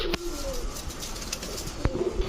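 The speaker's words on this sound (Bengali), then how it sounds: "পাকিস্তানি ঝাঁকগলা চুইঠাল ফুল ঝোপা মুজোওয়ালা একটা মাদি কবুতর" A Pakistani female pigeon gives soft, short coos close by against a low background murmur, with a faint flutter or shuffle near the end.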